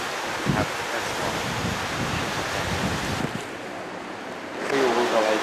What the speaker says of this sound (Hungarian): Ott, itt, ahol a hullámok vannak